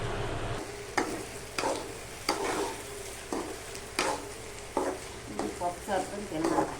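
Tomato stirred into an okra and potato curry frying in a village kitchen, giving a soft sizzle under repeated scraping strokes of a spoon at a steady rhythm, heard close and fairly quiet.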